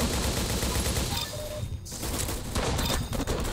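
Rapid automatic fire from a grease gun in the Roblox shooter Arsenal, a dense continuous burst of gunfire filling the whole stretch, loud and close with only a brief dip partway through.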